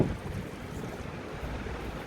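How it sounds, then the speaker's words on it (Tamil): Tamarind water is poured through a strainer into a brinjal gravy (ennai kathirikai kulambu), making a steady, continuous splashing trickle without any talk. "அந்த புளி தண்ணியை நம்ம வடிகட்டி இதில் ஊற்றிக்கலாம்."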